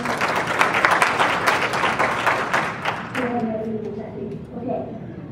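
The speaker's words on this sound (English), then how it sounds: "I thank you very much for your applause" Audience at a massage therapy hall of fame award ceremony applauds in a dense burst of clapping that gradually thins out, while a voice speaks over the fading tail.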